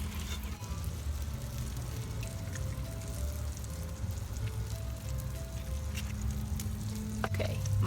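An egg frying on an uneven grill gives a steady, soft sizzle with faint crackles throughout, ending in a slightly louder clatter.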